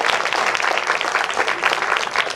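Audience applause for Professor J. Prabhakar Rao at a university conference, a dense, steady patter of many hands clapping at close range with no voices over it.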